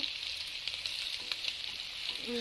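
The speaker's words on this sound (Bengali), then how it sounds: "এবার আমি মাছটা ভালোভাবে লাল লাল করে ভেজে নেব" Fish sizzles and crackles steadily in hot oil, a constant hiss with small pops, no voices.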